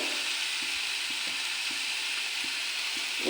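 Grated coconut sizzles in a hot wok on a gas flame for a coconut sweet, a loud, continuous frying hiss with faint periodic scrapes of stirring beneath it.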